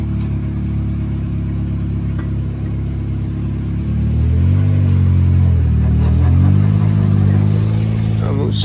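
A UAZ off-road vehicle climbs a step on a forest track. Its engine hums at a steady idle, then revs up with rising and falling pitch as it strains over the obstacle, loud and near.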